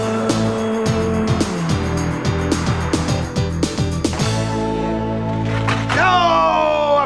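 A Scalextric Porsche 911 slot car races with a whining, revving motor and squealing tires, then crashes in a sharp clatter that ends in rising squeals.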